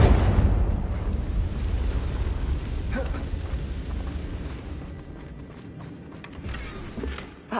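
A Confringo fire spell detonates in Hogwarts Legacy, opening with a loud booming blast that rolls into sustained rumbling crackle and debris, fading gradually over several seconds, no talk.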